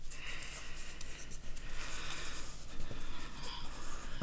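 Origami paper is creased and folded back while making a paper crane, giving a continuous close, crisp rustling with soft scraping accents throughout.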